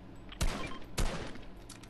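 Two sharp gunshot bursts about half a second apart ring out in a squad battle-royale video game match, loud and close, with a faint rumbling tail after each and no talk over them.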